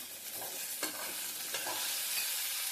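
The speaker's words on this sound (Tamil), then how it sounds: "இப்போ இது நல்லா வதங்கட்டும் இந்த மாதிரி வெங்காயம் நல்லா வதங்கின ஸ்டேஜில்" Onions sautéing in a pan for a tomato-free onion chutney, a close, steady sizzle with a few soft scrapes of stirring over its short length.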